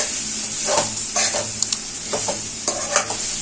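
Ginger and chili powder for a cauliflower masala curry sizzle in a frying pan as a spoon scrapes and stirs in irregular strokes over a constant bright frying hiss.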